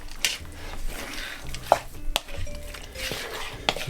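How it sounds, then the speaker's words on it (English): Chicken casserole ingredients being mixed in a baking dish, with scattered soft scrapes, light clinks of a utensil against the dish and faint wet stirring, close and fairly quiet, no talking. "Just going to mix that in."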